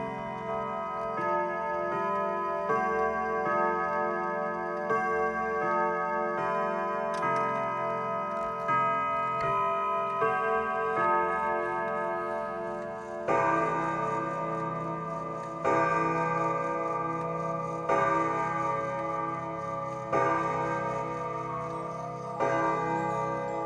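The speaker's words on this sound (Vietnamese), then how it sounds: "các bác không chỉ ngắm đồng hồ và nghe tiếng chuông là cũng bay hết cái mệt mỏi rồi" German clocks tick steadily while their chimes ring out in sustained melodic bell tones, a second strike sequence beginning midway and repeating in rhythmic bursts, loud and clear with no talking.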